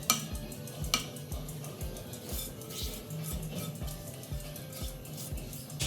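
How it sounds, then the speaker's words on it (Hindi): Semolina bread batter with a vegetable mixture being stirred in a bowl: a rhythmic run of scraping strokes with a spoon, repeating about twice per second, close by and continuous, with a few clinks. "और अच्छे से मिक्स कर लेते हैं।"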